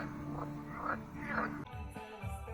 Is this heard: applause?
no